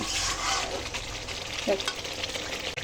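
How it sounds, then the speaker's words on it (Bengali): A ground paste of ginger, tomato and cashew fries in a hot wok, giving a steady close sizzle broken by scraping stir strokes, with no talking. "এটা প্রথমে কড়াইতে দিয়ে এখন এটার কাঁচা গন্ধটা আমি মজিয়ে নিচ্ছি"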